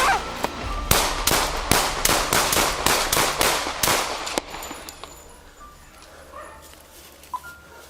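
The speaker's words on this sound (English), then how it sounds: "shots fired" Rapid series of about a dozen loud, sharp gunshots fired during a police confrontation, evenly spaced and close, then fading into quieter background with a single later report.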